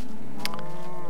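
A Minecraft cow gives one loud, close, low moo lasting about a second, tonal and slightly nasal, heard alone with no talking.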